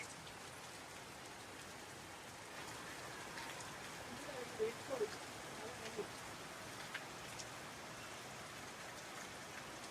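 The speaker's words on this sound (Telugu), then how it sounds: "ఇదిగోండి బయట అయితే హెవీగా వర్షం పడుతుంది" Steady, dense rainfall hisses continuously outside a resort in Darjeeling, heavy and even, with a few brief louder patters in the middle.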